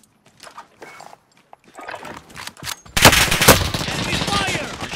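Rapid automatic gunfire breaks out in a shooter video game, loud and sustained, after a few seconds of quieter game sounds and brief voice chatter.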